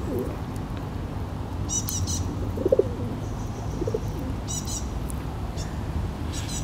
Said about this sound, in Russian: Вот зачем тут голубь?